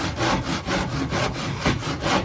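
A hand saw cuts through wood along a marked line, rasping in quick, regular back-and-forth strokes, close and loud.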